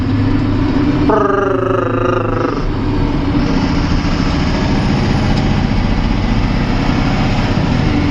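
Truck engine running loud and steady up close, a continuous low throbbing drone; a short voice cuts in briefly early on.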